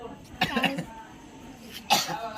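Two sharp coughs, close by, separated by a short pause in an otherwise quiet room.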